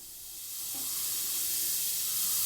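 A continuous airy hiss of an airbrush spraying paint through a template, building slightly in strength and holding steady throughout.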